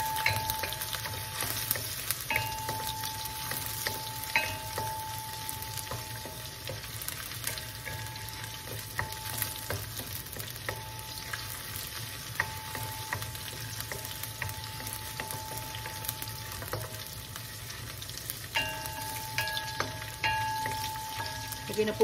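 Garlic and lemongrass frying in a pan for sinigang, a steady close sizzle with occasional stirring clicks and scrapes running throughout, moderately quiet, with no voices.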